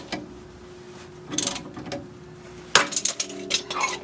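A puller and socket working loose a steering end link on a Ford F-150, with a few close metallic clinks and knocks, then a sharper pop-like clatter near the end, short and fairly loud with no talking.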